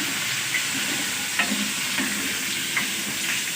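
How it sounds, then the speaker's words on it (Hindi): Boiled potatoes frying in a pan while being mashed and stirred with a spoon: a continuous close sizzle broken by soft scraping and tapping strokes, with no voices. "अब मैं जी इसमें बॉयल किए हुए आलू डालूंगी। ये जी अच्छी तरह इनको भी फ्राई कर देंगे।"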